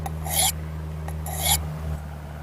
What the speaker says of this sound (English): So that's a great fine type sharpening stone to use to keep your blade in shape out in the field.